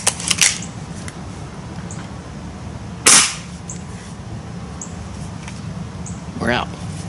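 A Gamo Swarm air rifle fires its last couple of shots, sharp snapping cracks standing out clearly, with one strong report near the middle over a low background hum.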